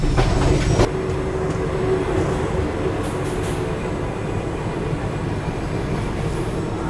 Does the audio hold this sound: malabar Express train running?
yes